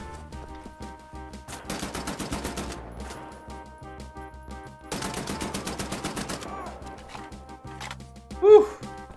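Bursts of rapid machine gun fire in Wolfenstein: The New Order, two long rattling volleys separated by quieter gaps, with music underneath and a sharp louder hit near the end.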